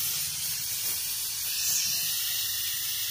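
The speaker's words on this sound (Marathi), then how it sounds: "कुकरची शिट्टी बघा कशी चालू आहे मित्रांनो" A pressure cooker on a village wood-fired stove cooking mutton lets out a sustained high hissing whistle of steam, loud and steady with no talk over it.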